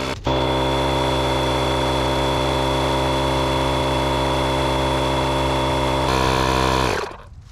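Portable tire inflator pumping up the tires of a rotting 1985 Ford Bronco II, a loud, steady motor drone that holds for several seconds, shifts slightly in pitch, then cuts off.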